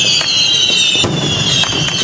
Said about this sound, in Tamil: பட்டாசு நகரான சிவகாசியில் 1 மணி நேரம் இடைவிடாது வான வேடிக்கை நிகழ்த்தப்பட்டது.